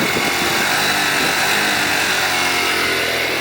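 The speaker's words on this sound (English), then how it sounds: "I can rev the engine here." A cold TaoTao ATM50-A moped engine revs in a loud, steady, continuous roar with a dense buzzing drone that holds throughout.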